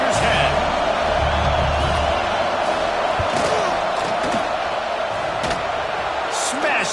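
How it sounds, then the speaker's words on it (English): A loud stadium crowd at an American football game roars and cheers continuously to distract the kicker before a field goal, a dense wash of voices with occasional sharp whoops and bangs, and a commentator talking over it. "This crowd trying to do its part to get inside the kicker's head"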